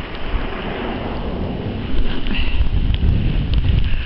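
Strong wind roars steadily against the microphone during a cold January snowstorm, a dense rumbling gust that swells louder midway and stays harsh to the end.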